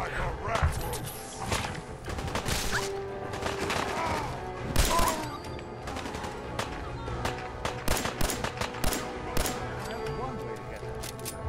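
Gunfire from Fallout 4 with rapid sharp bursts and scattered shots, fairly loud throughout and mixed with game noise and a talking voice.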